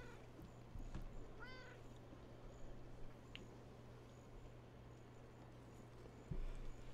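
A cat in a video game gives a couple of short rising meows early on, over a steady low game-ambience hum.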